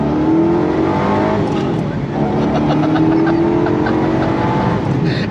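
A 2005 Ford GT engine pulls hard under acceleration through manual gear changes. The loud, close roar climbs in pitch, dips briefly at a shift from second to third, then rises again.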